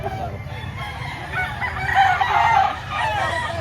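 A White Boston rooster, eight months old, crows once at a livestock market in Lipa, Batangas, a moderately near call rising over steady crowd and background noise.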